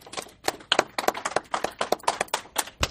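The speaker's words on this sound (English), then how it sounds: "Let's have another round of applause for Kerry." Applause at a recovery convention, a small group of close, distinct hand claps in a quick uneven rhythm, sparse enough that single claps stand out.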